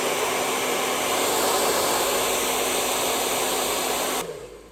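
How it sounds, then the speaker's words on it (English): A hair dryer blows steadily and loudly while drying a wig in a home kitchen, a continuous broadband roar that cuts off abruptly near the end. "I'm gonna blow dry"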